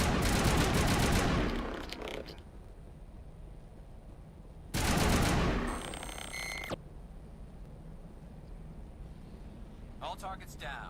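Rapid automatic gunfire in Mass Effect 1 comes in two loud bursts separated by quieter stretches, with electronic beeps and a voice speaking in between.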